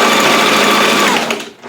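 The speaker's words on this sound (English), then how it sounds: "So I'm just gonna sew a regular stitch." A sewing machine runs steadily at speed with a dense, even mechanical whir, close up, then slows and briefly stops near the end.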